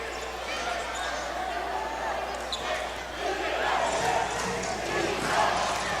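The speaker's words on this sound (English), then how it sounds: "Listen to the crowd chanting defense" Basketball crowd in an arena chanting defense in a steady rhythmic roar under a commentator's talk, swelling louder partway through.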